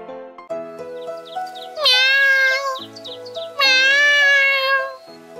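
Cartoon kitten meowing in a Russian-dubbed Paw Patrol toy cartoon: several clear, close meows, two long drawn-out cries standing out loudly between shorter mews over a soft musical background.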